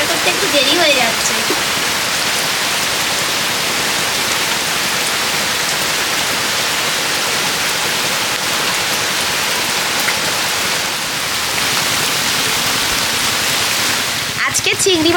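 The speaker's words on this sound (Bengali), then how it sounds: "আজকের পুরোপুরি বৃষ্টিটা হচ্ছে আমাদের এই উনানের মুখের এই দিকটাতে" Heavy rain pours beside an outdoor clay cooking stove, a dense, steady hiss of rainfall close by that fills the whole stretch, with a voice speaking under it.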